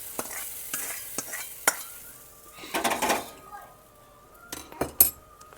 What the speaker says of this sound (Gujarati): આમ મિક્સ કરી દેવાનું।